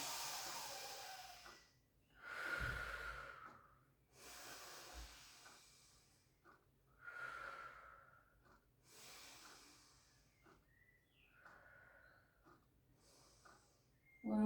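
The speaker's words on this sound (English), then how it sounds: "Take a breath in." Slow, deliberate breaths during a pilates flow class, soft airy inhales and exhales recurring every couple of seconds, close and quiet with no talking over them.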